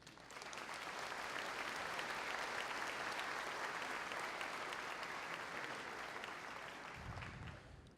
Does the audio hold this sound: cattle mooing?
no